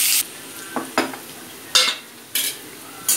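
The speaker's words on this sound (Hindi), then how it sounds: "ये अदरक आप मैं सबको अच्छी तरह भूंजूंगी जब तक कि ये ब्राउन कलर ना हो जाए" A spatula scrapes and stirs ginger, onion and garlic in a pan in short irregular strokes, with a low sizzle underneath as they brown.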